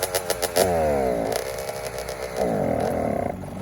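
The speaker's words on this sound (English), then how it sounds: "bike will start and it bogs out and dies" A Honda CRF150R dirt bike fires up with a few chugs, the four-stroke engine then runs rough, bogging with sagging revs before picking up again, loud and close with no talking.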